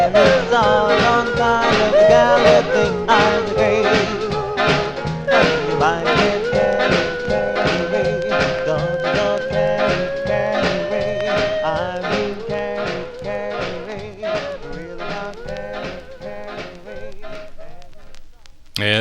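A 1953 doo-wop single playing from a Chance 45 record: crooning lead and harmony vocals over a full backing band, steady and moderately loud throughout.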